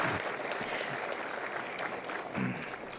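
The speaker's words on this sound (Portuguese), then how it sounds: "Uma salva de palmas para o senador Alci" Applause at a Brazilian special session for condominium managers, a steady wash of clapping hands from a seated audience that holds evenly throughout.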